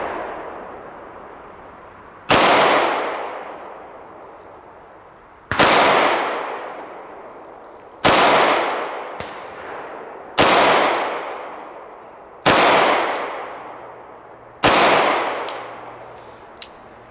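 Six sharp, loud 9mm pistol shots from a Sig Legion ring out at an uneven pace about two seconds apart, each with a long echoing decay, and no one speaks.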